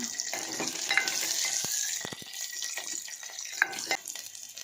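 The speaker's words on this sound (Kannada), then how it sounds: "ಒಗ್ಗರಣೆ ಆಯಿತು ನೋಡಿ" Steady crackling sizzle of spices tempering in hot oil for peanut sambar, close by, with occasional sharp pops and brief clinks over the continuous hiss.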